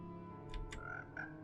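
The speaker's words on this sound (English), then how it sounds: "Oh, I hear a frog." A frog croaks in a video game, two or three short croaks over a quiet humming background with soft in-game tones.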